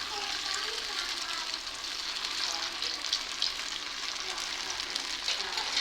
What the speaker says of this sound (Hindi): और फिर इसके ऊपर हमने जो बनाए हुए हैं कबाब, वो हम इसमें फ्राई करेंगे।